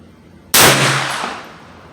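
A single sharp gunshot from a 9mm Ruger PC Carbine Tactical, loud and close, cracking out suddenly after quiet and trailing off in a long ringing decay.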